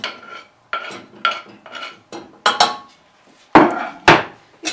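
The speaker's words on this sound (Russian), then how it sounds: "И перемешиваем." A spoon scrapes and clacks against a bowl in short repeated strokes, stirring a thick filling of chopped egg and cabbage for a Russian pie, close and crisp with brief pauses between.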